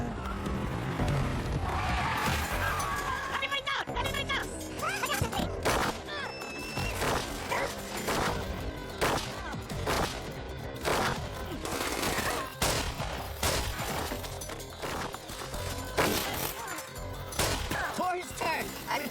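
Rapid gunfire in a tense standoff, with repeated sharp shots and bursts cracking at irregular intervals over a loud, busy background, with voices talking in between.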